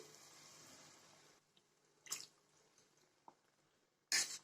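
Water poured from a mixer jar into a curry with cashew paste, a steady splashing trickle for over a second, then a few short knocks and clinks with one louder clatter at the end.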